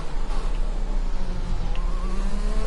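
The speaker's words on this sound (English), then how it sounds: "So cars are starting to come in the pits already." Racing cars in the F1 2020 video game roar continuously as they enter the pits, a loud steady engine drone with whining pitch shifts throughout, no talking.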